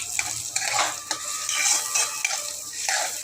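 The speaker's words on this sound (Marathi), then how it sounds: "कांदा आपला भाजतोय चांगला भाजून घ्यायचा आहे" Onions sautéing in a pan for a thalipeeth side dish, a continuous bright sizzle with frequent quick scrapes and taps of a spatula, close and moderately loud with no talking.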